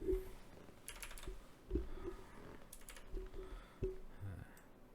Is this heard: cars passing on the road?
no